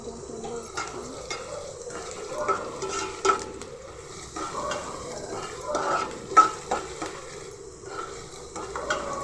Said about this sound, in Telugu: ఆనియన్స్ ఫ్రై అవుతున్నావు కదా,